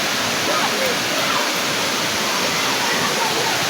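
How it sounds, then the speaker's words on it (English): Bono Waterfalls on the Yaya River in Ghana pour with a loud, close, continuous roar of crashing water, an even broadband rush that never lets up. "And you people have named it to the BONO Waterfalls."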